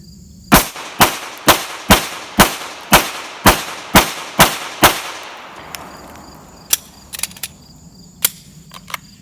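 Ten rapid pistol shots fired one-handed at an even pace, loud and sharp with short echo tails, followed by fainter scattered pops and clinks as the shooting stops.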